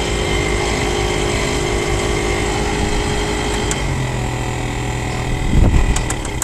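A faulty fan blower motor in a 2000 Chevrolet Impala runs with a steady, continuous mechanical drone and hum, holding level throughout with a brief louder low rumble near the end.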